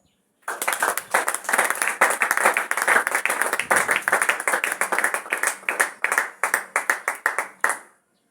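A church congregation claps and applauds together, a dense burst of handclaps starting abruptly, holding steady for several seconds, then thinning into rhythmic, separate claps before stopping, with faint voices mixed in.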